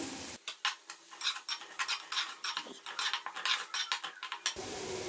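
Vegetables and cabbage stir-fried in a pan, with rapid clattering metal scrapes and taps of a utensil against the pan over a low sizzle, busy and close.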